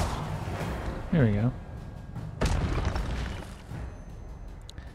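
In the Hogwarts Legacy video game, an Incendio fire spell is cast, giving a sudden whooshing burst followed by a deep boom, alongside a brief voiced spell sound and someone talking.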